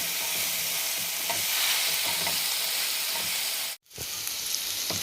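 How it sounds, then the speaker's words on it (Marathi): Crushed green chili and garlic thecha sautéed in a pan gives a steady close sizzle with stirring scrapes throughout, cut by a brief silence near the end before the frying resumes. "या ठेचाचा कच्चेपणा जाईपर्यंत फक्त आपण एक दोन मिनटं हे परतून घेऊया"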